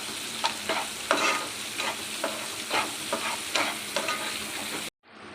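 Tomato pieces fry with turmeric in a pan, giving a steady close sizzle broken by regular scraping stirs of a spoon, then a sudden cut to near silence at the very end.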